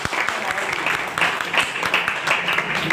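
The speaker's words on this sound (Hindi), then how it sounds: "तो एक बार सर के लिए जोरदार तालियां" An audience at an awards event for achievers claps loudly and continuously, a dense, steady wash of applause filling the room.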